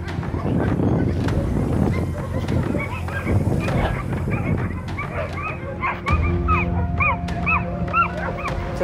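A neglected dog whimpers and yips in short, high, repeated cries, with barking and a voice early on, then rhythmic whining squeals continue close to the microphone.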